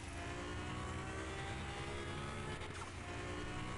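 A car engine in the video game Car Mechanic Simulator 2021 revs high during a launch, heard as a steady, dense, fairly quiet roar that stays even throughout with no voices.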